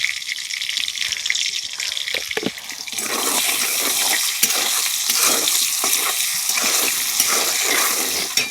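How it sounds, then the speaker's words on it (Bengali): Potatoes fry in mustard oil with salt, starting with quiet stirring, then breaking into a loud, steady, close sizzle that carries through to the end with no talk. "আলুগুলো ভাজা হয়ে গেছে"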